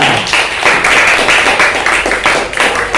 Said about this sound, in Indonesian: Tepuk tangan untuk pertanyaannya